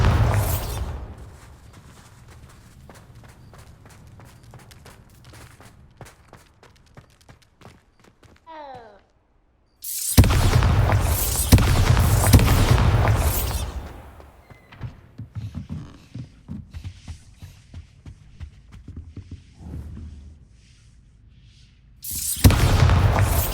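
Bombarda spell blasts in the Hogwarts Legacy video game: loud booming bursts with sustained roaring, one heavy blast about halfway through and another near the end, separated by quieter crackling stretches.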